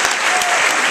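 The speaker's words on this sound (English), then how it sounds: "I want a warm round of applause for Zach Galifianakis." Warm applause from an audience at a red carpet premiere, a dense, steady wash of many hands clapping for the whole stretch, with no voices.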